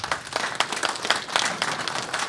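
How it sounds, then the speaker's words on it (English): An audience at a lecture applauds the speaker, a brief burst of many hands clapping, close and moderately loud, with individual claps standing out in an uneven, busy rhythm. "Can we get a big round of applause for Laird Scranton?"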